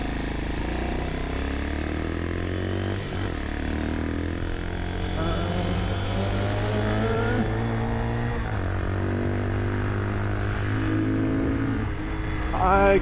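Custom 1967 Honda CT90 with a swapped-in YX140 engine ridden around town, its throaty engine note rising through the gears with dips at each shift, steady and close throughout.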